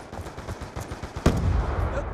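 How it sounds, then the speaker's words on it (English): Gunfire in a Call of Duty Black Ops II Domination multiplayer match comes as a string of rapid shots, followed by a sharper, heavier blast and a rumbling tail. "He's fucking shooting me."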